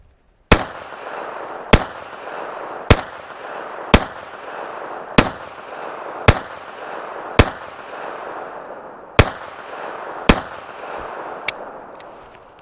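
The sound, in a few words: Beretta 3032 Tomcat pistol gunshots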